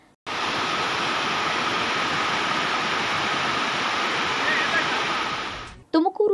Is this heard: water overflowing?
yes